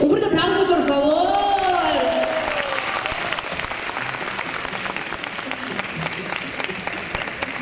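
An open-air concert crowd in a plaza gives loud, steady applause after the singer asks for it. The singer's voice is heard over the opening seconds, then the clapping carries on alone and fades slightly.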